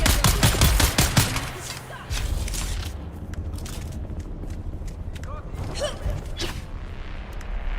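Machine gun fire in the Dune Awakening game opens with a rapid, loud burst of shots, then scattered, quieter shots and mechanical clanks continue over a steady game ambience.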